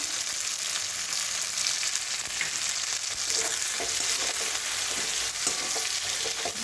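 Slit green chillies and kasuri methi sizzle steadily in hot oil in a pan while being stirred for ghugni, with a continuous bright frying hiss and soft scraping of the spoon, no voices.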